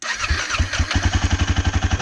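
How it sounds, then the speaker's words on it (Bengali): A car engine cranking and catching in snowy mountain cold, with a fast rhythmic chugging of repeated pulses that grows steadier and louder over two seconds, close and loud with no talk. "এখন আমি এসছি আমার গাড়িটাকে স্টার্ট করব বলে।"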